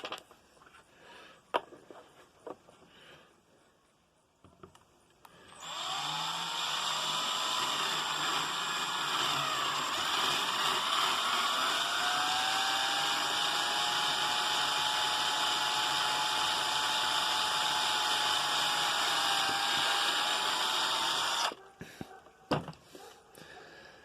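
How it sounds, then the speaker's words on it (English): An electric drill turns slowly through plastic on a heater caster, a sustained steady whine lasting about fifteen seconds with a slight pitch sag, framed by handling clicks and knocks before and after. "Thing about drilling through plastic is you don't want to go fast."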